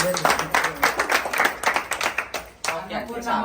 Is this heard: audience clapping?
yes